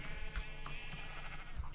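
Sheep bleat in a pen in the Minecraft video game, several short wavering calls over a steady busy game background, with no speech over them.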